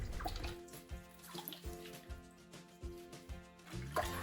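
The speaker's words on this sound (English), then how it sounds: "I pour some cleaner on it and let it sit for 10 minutes." Cleaning liquid pours and splashes into a toilet bowl in a few short gurgling bursts, close and fairly quiet over a faint tonal background.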